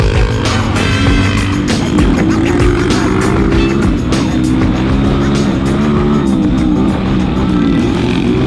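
Off-road motorcycle accelerating on a dirt trail, engine droning loud and close throughout with harmonic revving that rises and shifts, steady and continuous.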